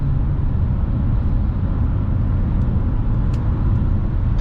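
A 2004 Bentley Continental GT with a 6.0 W12 engine, driven in sport mode at about 100 km/h, produces a deep, steady engine drone from inside the cabin, loud and unbroken, with no distinct shift breaks.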